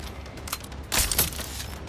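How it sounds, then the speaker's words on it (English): Gunfire in the video game Watch Dogs: Legion, a couple of quick sharp bursts about a second apart over a low background rumble. "Taking fire!"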